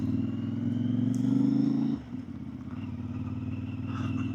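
A CFmoto IBEX450 motorcycle ridden on off-road trails, a steady mid-pitched engine drone that briefly drops at a gear change around two seconds, then continues alongside light clatter.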